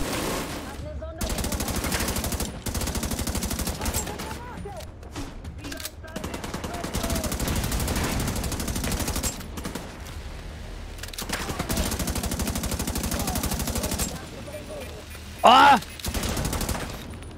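Mounted machine gun fire in the video game The Division 2, loud dense bursts of rapid gunfire running almost continuously with short pauses between volleys.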